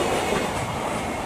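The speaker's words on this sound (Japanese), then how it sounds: "通過列車、貨物列車がね、行きまして" A freight train rumbles close by with a rushing roar and faint wheel clatter, loud and continuous for the whole moment, passing through Koboro Station, a remote station in Hokkaido, Japan.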